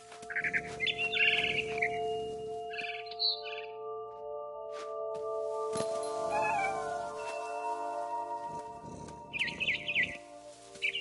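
Cat meowing in the video game What Remains of Edith Finch, several short meows and chirpy calls spread across the stretch over steady tonal background music.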